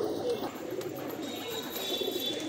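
Pigeons, among them a Bangladeshi-bred male, coo softly and continuously at close range, with low murmuring notes over a faint background hiss.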